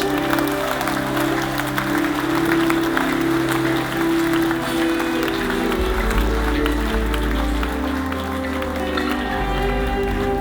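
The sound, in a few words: applause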